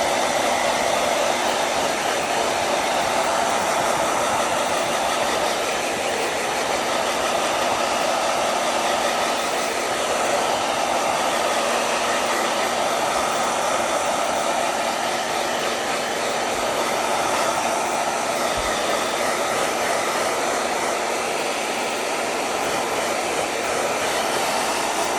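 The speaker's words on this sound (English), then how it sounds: "I'm just going to dry it with a hairdryer" A hairdryer blows steadily and loudly without pause, drying a wet gelli print with torn magazine images, with no speech over the constant whooshing roar.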